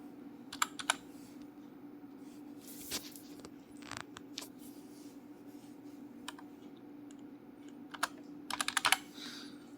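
An OTP code is typed on a computer keyboard while downloading a voter ID card online, with scattered close keystrokes and a quick burst of clicks at the end over a steady low room hum.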